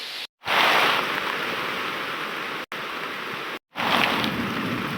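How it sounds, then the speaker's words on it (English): Heavy rain pouring down on an oak tree over a hammock camp in the UK during a thunderstorm, a dense continuous hiss broken by short gaps. "it is raining so heavy that I'm just getting no shelter at all"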